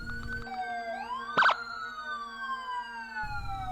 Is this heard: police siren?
yes